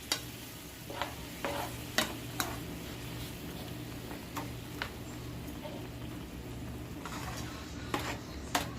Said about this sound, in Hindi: और इसको चलाएंगे और इसमें उबाल आने का इंतज़ार करेंगे।